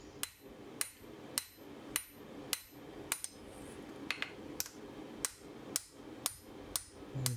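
A hammer rings on hot steel over an anvil while a hot-cut hardy tool is forged, with about a dozen sharp, evenly spaced metallic strikes in a steady rhythm, close and clear.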